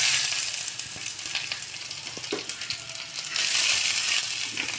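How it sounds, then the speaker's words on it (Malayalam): Mustard seeds popping in hot oil while tempering a Kerala ozhichukoottaan curry, a dense steady sizzle with scattered sharp crackles throughout, close and fairly loud with no voices. "എണ്ണ ചൂടായി വരുമ്പോൾ നമ്മൾ കടുകിട്ട് പൊട്ടിക്കണം"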